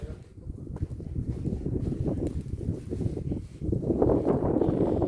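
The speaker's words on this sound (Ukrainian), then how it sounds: "Сьогодні трохи вітряно." Steady wind rushes and buffets against the microphone outdoors in a flower garden after winter, a continuous low roar that swells louder toward the end.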